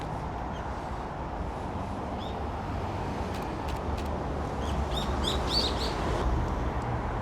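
Magpie calling outdoors, a few sharp chirps heard at a distance over steady traffic rumble and background noise, with no talk.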